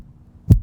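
Single deep, muffled heartbeat thump, one short low pulse after near silence, close and isolated.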